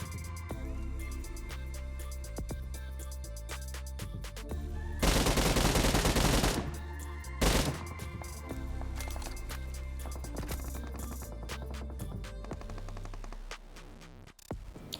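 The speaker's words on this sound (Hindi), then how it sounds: "जैसे ही मैं उसे ट्रेस करती हूँ, मैं उस पर फायर भी कर देती हूँ" Gunfire from the video game BGMI (PUBG) crackles in rapid bursts over steady game music, peaking in a dense, loud volley midway.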